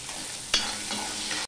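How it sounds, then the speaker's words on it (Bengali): Small and medium chopped onion, chilli and garlic frying in oil with salt, a bright steady sizzle with one sharp stir or clink near the start, ending abruptly; nobody talks. "ছোট একটা আর মিডিয়াম সাইজের, এগুলো আমি তেলের মধ্যে দিয়ে দিলাম।"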